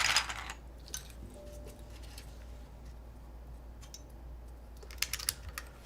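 Soft, steady typing on a custom Hall effect keyboard with thick PBT keycaps, deep muted keystrokes clacking continuously with a few louder bursts near the start and end.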